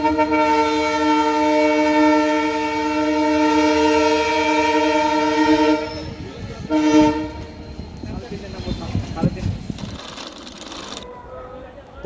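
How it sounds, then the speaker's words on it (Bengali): A locomotive at Krishnanagar City Junction sounds a long, loud, sustained whistle as it passes, followed by the rumble and clatter of wheels on rails that fades toward the end. "অসাধারণ হুইসেল মারতে মারতে এই মুহূর্তে একটি ইঞ্জিন পাস করছে।"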